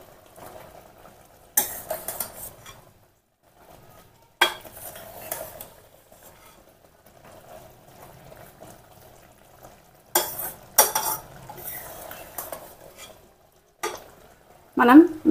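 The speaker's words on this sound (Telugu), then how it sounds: "ఇప్పుడు ఒకసారి బాగా కలిపేసుకోవాలి" A utensil stirs vegetable soup with green chillies and pepper powder in a pot, scraping in several separate bursts of clatter with quiet pauses between them, fairly close and with no talking.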